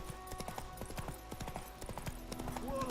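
Hooves of Roach the horse clip-clop in a quick galloping rhythm in The Witcher 3, fairly faint, with a soft snort or whinny near the end.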